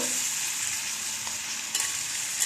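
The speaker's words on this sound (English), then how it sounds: "stir them nicely in this nice hot oil with panch foron ka tadka" One onion and half a tomato fry in hot oil with a panch phoron tempering, giving a constant bright sizzle close up, with a soft stir and scrape near the end.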